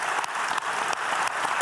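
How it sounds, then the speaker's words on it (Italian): A studio audience at a televised Telethon charity marathon applauds a young woman, a brisk, dense spread of clapping with a few sharper rhythmic claps standing out, loud and steady. "io le farei un applauso"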